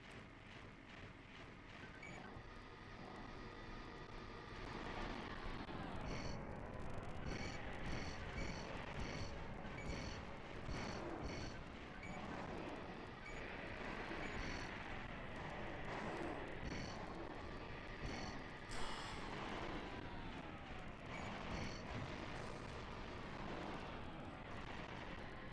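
Aircraft approach in the Armored Core game with a continuous roaring drone and whooshing engine noise, heard alongside steady game sounds and faint electronic beeps that run throughout.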